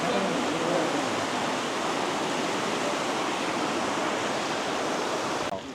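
A waterfall roars in Johnston Canyon, Banff, Alberta, on a rainy hike. The rushing water is loud, steady and close, filling the whole stretch and cutting off abruptly at the end.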